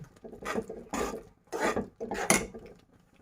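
Sweet vermicelli (seviyan) topped with chopped cashews and almonds being stirred in a pan, four distinct scraping, rubbing strokes of a spoon against the vessel at a steady pace, close and fairly loud.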